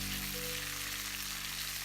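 Green and red chilies cut into small pieces frying in hot oil, a soft steady sizzle with faint crackle, fairly quiet and continuous with no voices.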